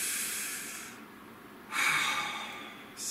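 A deep breath taken close to the microphone: a long airy inhale, a pause, then a strong hissing exhale, with the start of another breath at the end.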